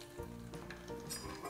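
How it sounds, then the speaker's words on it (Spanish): Black rice frying in hot oil in a kitchen, a dense continuous sizzle and crackle with small bursts of popping, close and steady without any talking. "vamos a empezar friendo, vamos a freír el arroz que hemos dicho antes, el arroz negro."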